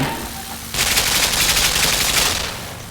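In the video game Limbo, a rapid burst of gunfire strikes a bulletproof box. The close, loud crackle of shots lasts about two seconds, then fades out.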